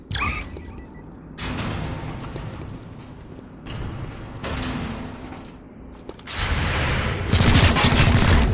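Gunfire in XCOM: Chimera Squad, with several short bursts of shots and mechanical clattering spread across the clip, growing into a louder, denser volley near the end, with faint talk in the background.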